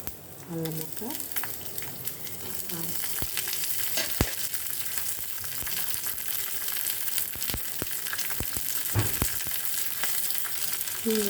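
Chillies and ginger fry in hot oil for tempering in rava lemon pulihora, giving a continuous crackling sizzle with sharp pops and clicks. A brief voice is heard early on.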